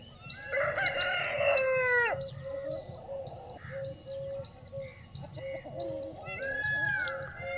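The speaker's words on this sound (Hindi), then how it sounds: "नौशील के मुर्गे कितने बेस्ट मुर्गे मेरे पास में आपको मैं दिखा रहा हूँ।" Desi Aseel roosters on a free-range poultry farm beside millet and guar fields crow loudly and close, one long crow first, then softer clucks and chirps, and another crow near the end.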